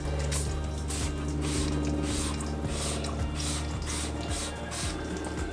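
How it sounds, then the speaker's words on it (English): A series of short, breathy bursts of engine cleaner spray hiss out across a car's engine bay in a repeating rhythm over a steady mechanical hum. "we will just spray this product across all of the engine bay."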